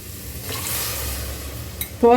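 Watermelon rind sautéing in a pan gives a soft, steady sizzle close by, ending with a brief clatter of stirring against the pan.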